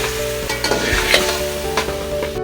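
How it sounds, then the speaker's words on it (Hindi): Masala fries in ghee with steady stirring and sizzling, a continuous close scraping texture with a few louder clatters, no voices. "मसाला फ्राई हो गया, भुन गया है अच्छे से, अब घी भी ऊपर आ गया है"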